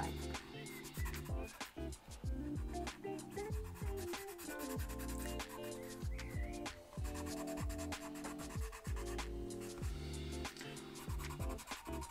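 A pencil scrapes and rubs in a sharpener in near, continuous strokes, with a steady dense rasping texture and small irregular clicks throughout, no talk over it.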